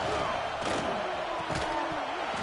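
A football stadium crowd roars on third down, a dense, continuous wall of cheering and noise with a few muffled thuds, loud and steady, with faint talk underneath.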